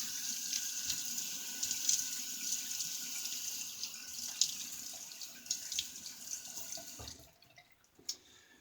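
Water runs from a bathroom tap while someone wets their face before a shave, a close, steady splashing stream that cuts off near the end and leaves a few faint drips.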